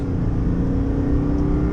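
A 2024 Chevy Silverado ZR2 diesel pickup engine drones and revs continuously from inside the truck, loud and close, with a low rumbling hum and no voices.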